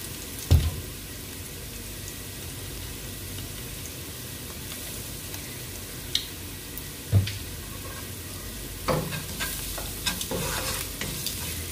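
Cabbage and carrot thoran sautéing in a pan, a low steady sizzle with occasional soft stirring scrapes and a few light clinks, close and continuous with no talk.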